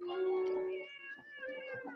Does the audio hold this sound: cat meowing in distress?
yes